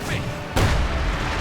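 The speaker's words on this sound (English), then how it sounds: "And there we go, the 152mm howitzer opening up." A 152mm howitzer fires once in the strategy game Company of Heroes 2, a sudden heavy boom that cuts through the low rumble of battle and then rings out.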